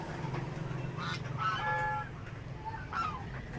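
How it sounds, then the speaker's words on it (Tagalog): Male geese and ducks honk and quack in a noisy fight, with harsh overlapping calls in bursts over a steady background hum. "nag-aaway ng dalawa kong barako, yung gansa at saka yung pato"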